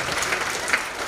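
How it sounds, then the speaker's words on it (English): Brief burst of audience applause for readers at a staged holiday theatre reading, a dense wash of clapping held at an even level throughout the short moment, with no voices over it. "let's have a round of applause for our readers."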